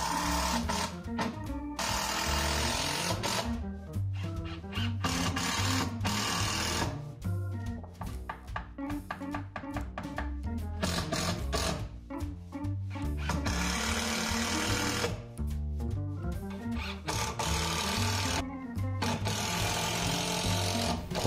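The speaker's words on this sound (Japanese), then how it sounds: "これでようやくビスで固定できます" A power driver drives screws into a wooden floor joist in an old house's attic. Long, loud, buzzing whirs repeat with brief pauses and steady clattering for about twenty seconds.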